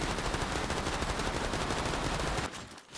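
Sustained gunfire in the zombie MMORPG Persist Online, a dense, loud rattling barrage of rapid shots that cuts off abruptly near the end.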